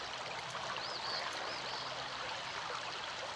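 Flowing water in the video game Anna runs as a steady, moderate stream, with continuous rushing and a few faint chirping tones over it, and no voices.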